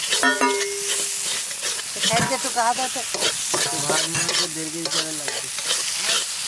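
Banana flower ghonto with fish head being stirred in a pan, a spoon scraping and mixing the thick mixture in steady, close strokes over a light sizzle, with no voices.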